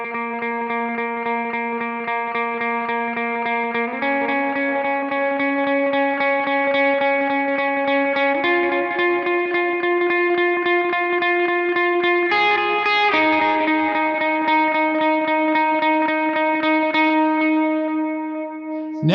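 Lead electric guitar line for the worship song Jesus Be The Name, played through effects with distortion, chorus, echo and reverb: sustained melodic notes shifting pitch every few seconds, steady and loud, no talking.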